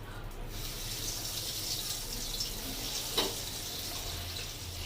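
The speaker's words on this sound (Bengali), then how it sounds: "একটা একটা করে দিয়ে দেবো তেলের মধ্যে।" Fish fingers fry in hot refined oil with a steady, close hiss of sizzling that carries through without a break, plus one brief louder crackle partway through.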